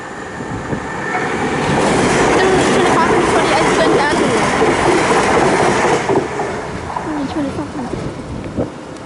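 A train rolls past a level crossing at East Enfield, building to a loud rumbling roar with rhythmic clattering of the wheels on the rails, then gradually fading as it moves away.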